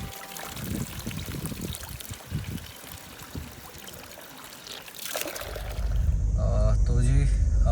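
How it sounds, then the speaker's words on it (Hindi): Water from a mountain stream in Parvati Valley near Kasol fills a container, a steady rushing trickle that grows louder near the end, with someone talking over it. "तो मैं भरने आ रहा हूँ पानी"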